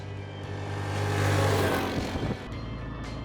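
A Yamaha-Linhai D400 4x4 ATV accelerates hard toward top speed, its engine note rising and swelling to a peak before easing off, close by with wind noise.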